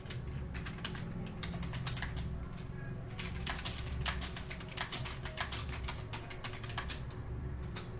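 Rapid, irregular keystrokes on a computer keyboard during an online class, a steady patter of light clicks with a few louder taps, fairly close and quiet, with no talking over it.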